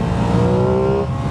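Engine of a 2021 Aprilia Tuono 660 motorcycle pulling hard under acceleration, a loud, steady, close-up drone with rising tonal harmonics and no voices.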